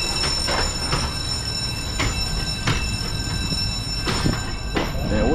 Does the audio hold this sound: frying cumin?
no